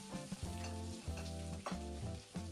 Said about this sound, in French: Faire revenir l'ail et l'oignon 20 secondes.